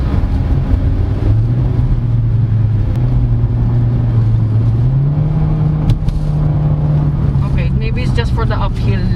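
A 2022 Chevrolet Spark Premier CVT hatchback driving in L mode gives a steady, close engine drone that climbs in pitch partway through, with road noise underneath.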